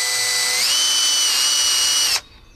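A power drill fitted with a nail as its bit drills out the tip of a homemade steel dart: a loud, steady high-pitched whine that shifts pitch once partway through, then cuts off abruptly near the end, with no talk.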